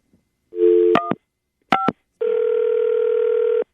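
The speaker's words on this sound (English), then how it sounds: "phone's ringing" A tone-dial phone call sequence: a steady dial tone, a few quick button beeps, then a long unbroken ringback tone, loud and close.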